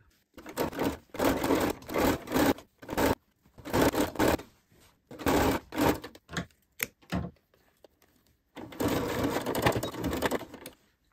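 A sewing machine stitches silver braid onto a Christmas tree skirt, whirring in several loud bursts of a second or so, separated by short silent pauses, with one longer run at the end.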